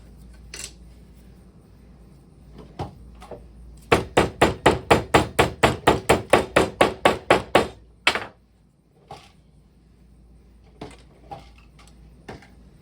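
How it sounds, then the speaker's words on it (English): Wooden part of a codex quest kit being assembled is struck with a hammer: a rapid run of about fifteen sharp, evenly spaced blows, close and loud, framed by a few isolated knocks before and after. "Put it on top and hammer down onto it like this"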